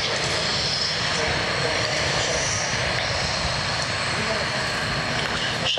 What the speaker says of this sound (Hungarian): lássuk, hogy milyen egy helikopter, hogyha repülőgépet játszik leszálláskor